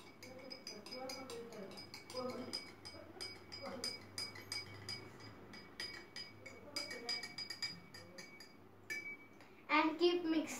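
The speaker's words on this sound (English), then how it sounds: "Then take a salt and mix in water." A metal spoon clinks against a glass of water while stirring in salt, giving scattered light chinks over room noise, with a voice in the background and a louder burst of clinking near the end.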